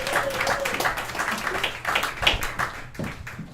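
Audience at a comedy open mic night in a speakeasy bursts into applause, a dense, steady patter of many hands clapping close by throughout, with a few faint voices mixed in.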